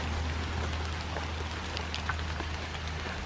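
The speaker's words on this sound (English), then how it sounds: "got a nice little rain falling here in early fall" Light rain pattering steadily through a mixed woodland of deciduous trees and eastern red cedar in early fall, a soft continuous hiss with scattered drop ticks and a low steady hum beneath, no voices.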